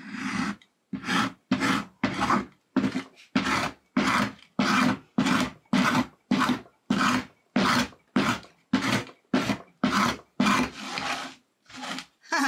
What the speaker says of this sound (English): What if we drag a hammer across it?